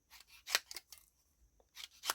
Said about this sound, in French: Ouais, je vais couper un petit bout de rose.